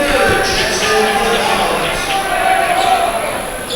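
A home basketball crowd at Staley's varsity gym cheers and roars steadily, loud and sustained, with sneaker squeaks and a commentator talking over the noise.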